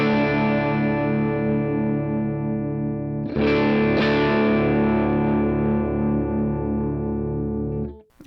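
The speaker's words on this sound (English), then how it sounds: "we're going to add a Vox AC30 for our rhythm tone" Electric guitar played through a Vox AC30 amp model with top boost on a Quad Cortex, set for a rhythm tone: a sustained, gritty chord ringing out, two fresh strums mid-way, then fading and cutting off abruptly at the end.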